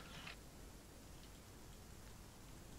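Steady rain in the video game Arma III, a faint, even hiss that runs unbroken from start to end with no voices.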